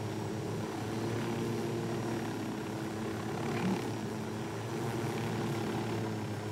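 A helicopter in the video game Ghost Recon Wildlands drones steadily through the whole stretch, its engine and rotor hum constant and moderately loud, with no talk over it.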